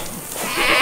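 Farm goats bleating loudly and close by, a harsh, wavering cry that swells toward the end over a noisy outdoor background.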